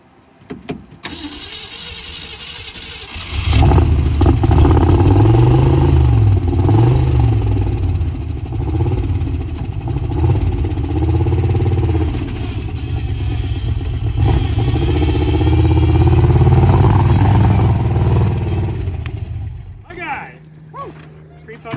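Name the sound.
off-road vehicle engine running with lifter tick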